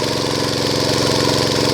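A gas-fuelled water pump engine runs steadily at a loud, constant mid-pitched drone, holding a continuous throttle throughout with no voices.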